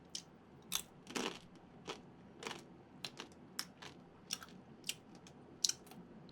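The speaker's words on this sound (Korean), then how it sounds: "이렇게 좀 습도가 높은 시즌에 부셔 먹는 생라면이 진짜 맛있어" Someone crunches and chews crushed raw Jin Ramen instant noodles, a close series of crisp, dry snapping bites recurring irregularly over quiet background with no talk.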